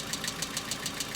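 The cold engine of a Hyundai Accent idles in near-freezing weather, its hydraulic lifters knocking in a fast, even ticking rhythm of about seven clear taps per second over the engine's steady rumble, close by.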